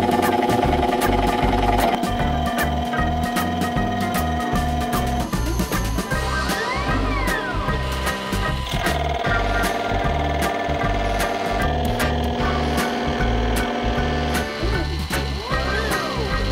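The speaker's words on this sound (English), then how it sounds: "handing things over to my gear cutting macro to take the first of several passes" A CNC machine runs a gear cutting macro, cutting 50 teeth into a scrap metal blank with a loud, continuous mechanical whine, rising and falling tones and repeated rhythmic clicks throughout.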